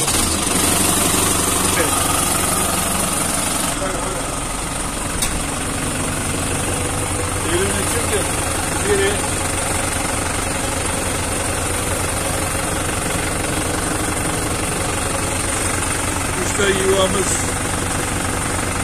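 Tractor engine starting and settling into a steady idle, a continuous low rumble with vibration running throughout, while people talk over it.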